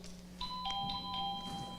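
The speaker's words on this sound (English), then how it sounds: "He did that just so he could ring that bell." A small bell rings in a Wednesday night Bible class, several bright, clear ding tones in quick succession at moderate loudness over a quiet room hum.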